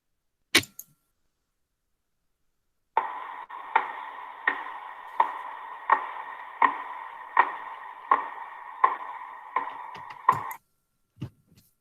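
A normal pulsar spinning about once per second, its radio signal turned into sound: a steady series of evenly spaced buzzy pulses, roughly one per second, repeating clearly for several seconds against silence.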